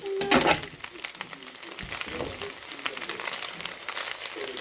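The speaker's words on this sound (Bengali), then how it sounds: "এখন এটাকে আমি আগের মতো করে আবার নেড়ে চেড়ে মিক্স করে নিচ্ছি" Pasta loaded with plenty of cheese is stirred and mixed in a hot pan, giving a steady close sizzle with scraping and stirring clatter, loudest in a brief burst at the start.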